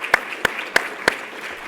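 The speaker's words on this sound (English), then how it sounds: "Please, a round of applause" A handful of separate claps at an awareness event, four sharp hand claps spaced evenly and close by, with a quiet room behind them.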